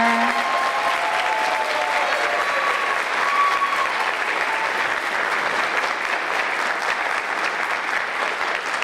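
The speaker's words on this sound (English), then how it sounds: "maybe a round of applause out there" Audience applause at a school pageant, a dense, steady wash of clapping that continues throughout at fairly close range, with a brief cheer or voice near the start.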